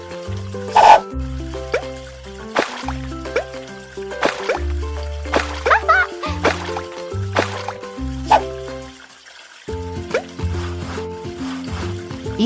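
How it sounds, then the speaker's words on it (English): Soap bubbles and water while washing dishes in a children's video game: bright bubbly drips and plops ring out over a bouncy musical background, with a few louder splashes scattered throughout. "Even more soap bubbles"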